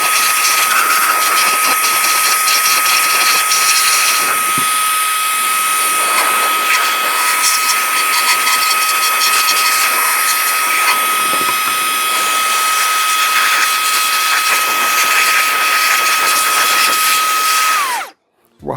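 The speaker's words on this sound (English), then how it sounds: "Turning on the vacuum, puts speed 2." Fanttik Robustclean Slim V8 Apex handheld vacuum running at speed 2, a loud, steady high-pitched motor whine with a sharp tonal hum that holds constant throughout before cutting off abruptly at the end.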